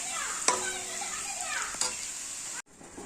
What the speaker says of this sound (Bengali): এখানে একটু আলু ভাজা বসিয়েছি